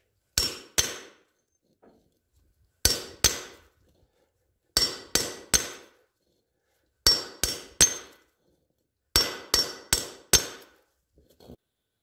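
Sharp metal hammer blows drive wheel studs out of a SuperDuty unit bearing hub, struck in clusters of two or three ringing hits with quiet pauses between, close and loud.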